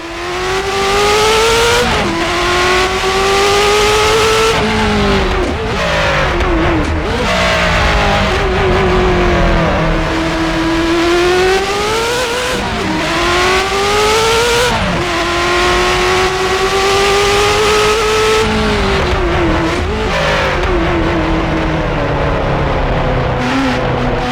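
A Ferrari F40 Competizione race car engine in a video game mod, loud and continuous, revving up and down with rising and falling pitch and occasional tire squeal, no talk.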